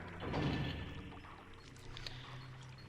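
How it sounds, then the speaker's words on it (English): Water gate rising in Zelda: Twilight Princess, heard as a quiet, steady rush of pouring, churning water with a low mechanical rumble and a few soft thuds, without talk. "And we raise the water gate"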